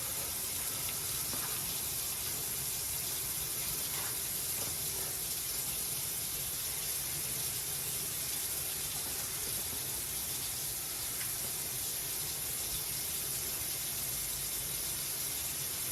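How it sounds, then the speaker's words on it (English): Tap water runs steadily in a home kitchen during meal prep for washing hands and utensils, a continuous even hiss and gush with no talk over it. "Make sure you wash your hands, wash any utensils you are using."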